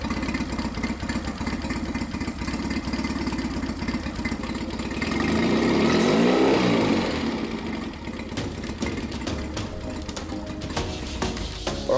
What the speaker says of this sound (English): I'm going to go outside, start the engine up